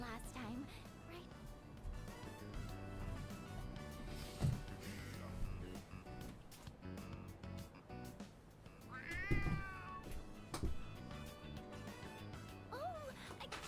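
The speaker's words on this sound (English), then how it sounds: "Oh, a kitty cat!" A cat in the Persona 3 Reload video game meows several times, drawn-out and plaintive, over background music with voices talking.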